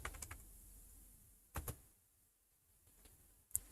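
Faint computer keyboard typing in a quiet room, with a few scattered clusters of key clicks separated by pauses.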